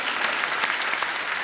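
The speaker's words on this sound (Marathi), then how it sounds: "कीर्तन झालं की आता अजून एकदा मोकळ्या मनाने टाळ्या वाजवायच्या" A crowd gathered for a Marathi kirtan applauds, a dense, even patter of many hands clapping together for over a second, with no speech heard.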